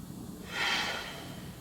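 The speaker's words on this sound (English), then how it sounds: "taking a few deep breaths" A single deep breath taken while seated in a chair yoga session, a soft, close airy exhale that swells briefly in the middle and fades out.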